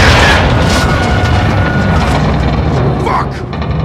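A rocket-propelled grenade explodes in the video game Call of Duty Modern Warfare II: a loud, sustained broadband blast and rumble filling nearly four seconds, easing slightly near the end, with voices under the din.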